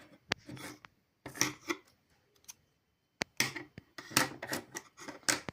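Scissors set down into a school pencil case, giving close, short bursts of clicks, clatter and rustling handling noise separated by brief pauses, with no talking.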